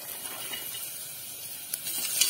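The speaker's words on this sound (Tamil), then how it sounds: "இப்போ இதை நல்லா வதக்கிக்கலாம்" Chopped onion, small carrot and beans sautéing in a pan for baby corn soup, a soft continuous sizzle with a couple of brief stirring scrapes, fairly quiet and steady with no talking.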